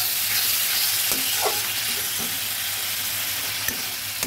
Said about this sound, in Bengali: সামান্য জল দিয়ে মশলাটা ভালোভাবে নেড়ে দিলাম